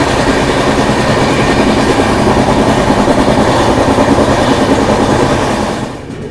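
Andhra Pradesh Express rolling along the rails near Kazipet at sunset: a loud, steady rumble with rhythmic wheel clatter that holds throughout, then fades slightly in the last half second.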